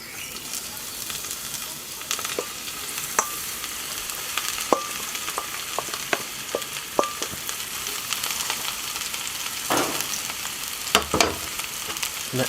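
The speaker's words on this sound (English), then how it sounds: "Let's add in some olive oil. And then we're going to throw in our mushrooms." Mushrooms frying in a hot pan with olive oil for a beef Wellington, a steady close sizzle with scattered crackles and pops and a few sharp clicks of stirring, no talk.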